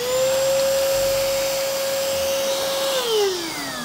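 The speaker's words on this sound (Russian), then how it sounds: "Это вот такой вот пылесос, маленький, аккумуляторный, вот так вот работает" Small cordless handheld kitchen vacuum cleaner sucking up crumbled cookie, a steady close whine with a high motor tone that holds then drops in pitch near the end as it winds down.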